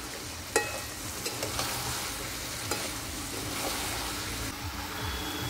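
Mushroom curry cooking in its own juices with spices and no added water sizzles steadily in a pan, close and continuous, with a few sharp clinks and scrapes of a stirring spoon and no talking.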